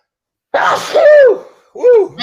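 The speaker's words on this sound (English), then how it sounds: "Forgive the sneezes, y'all." Two sneezes close to the microphone, the first a drawn-out wet burst followed a moment later by a shorter second, loud and alone in silence, during a virtual holiday house tour.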